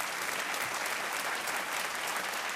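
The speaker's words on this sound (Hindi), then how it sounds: "तालियां बजती रहें देवियों और सज्जनों" Sustained applause from a studio audience at a Hindi quiz show taping, a dense steady wash of clapping holding at even loudness throughout with no voices on top.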